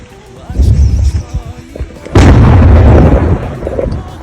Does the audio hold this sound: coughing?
no